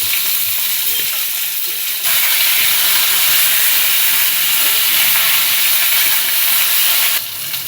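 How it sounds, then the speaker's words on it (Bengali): Raw potato pieces for aloo dum fry in hot oil in a home kitchen, producing a loud, close, continuous sizzling hiss that holds steady throughout and stops sharply near the end. "আলুর দমের আলুগুলো কিন্তু আমি সেদ্ধ করিনি, কাঁচা অবস্থাতেই ভাজছি"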